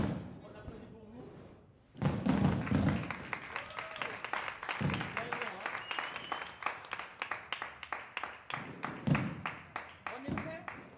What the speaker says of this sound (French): Alors, on applaudit pour vous.